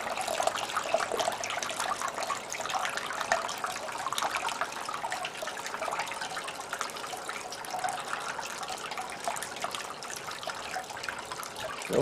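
Water gushes steadily from a valve opened full bore while a pump runs full, overflowing at the creek beach during a sand clean-up, with a constant broad rushing wash throughout and no talk.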